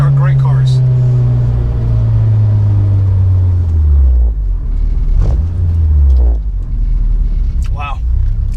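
Acura RSX engine pulling hard through a gear with a falling drone, a brief dip as it shifts, then climbing again, loud and close from inside the car.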